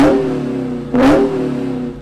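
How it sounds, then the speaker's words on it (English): Supercharged 797-hp 6.2-liter V8 of a Dodge Charger SRT Hellcat Redeye revving close by, a steady loud idle rumble broken by one sharp throttle blip near the middle that swells and falls back to idle. "Rev it up."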